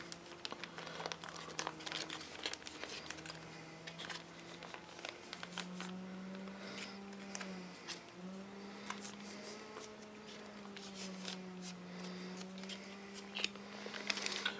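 Crinkling and crumpling of an MRE food pouch from a 2012 Menu 12 Spicy Penne Pasta Vegetarian ration, handled and cut down with scissors, scattered close crackles over a steady low hum.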